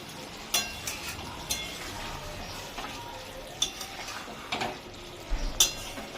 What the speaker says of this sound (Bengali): এবার দেখো খুলে দেখছি এবার একটু নেড়ে দেবো